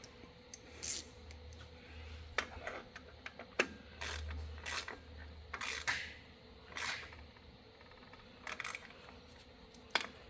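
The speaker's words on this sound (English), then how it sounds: "Tighten up our 2 bolts." A ratchet tightens two bolts on the fuel system or brakes of a Thunderbird, giving short bursts of clicking with metallic clanks in between, close and fairly quiet.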